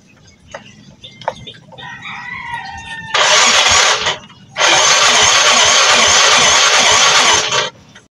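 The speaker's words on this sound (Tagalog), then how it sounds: "So i-push button natin kung talagang ayaw ba umandar nitong motor na to." A Yamaha Mio i 125 motorcycle with a weak, draining battery is push-button started: two long, loud bursts of cranking come one after the other without the engine catching, after a few clicks, with a rooster crowing faintly beforehand.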